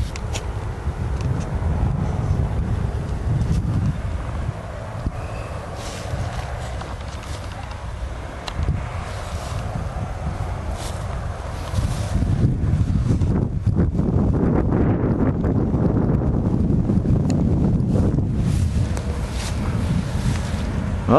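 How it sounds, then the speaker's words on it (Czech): Outdoor wind gusting and buffeting the microphone while a kite is flown, with a steady broadband roar that strengthens in the second half and no talk. "Tak, aby ho pěkně vítr vzal."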